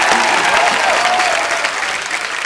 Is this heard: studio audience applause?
yes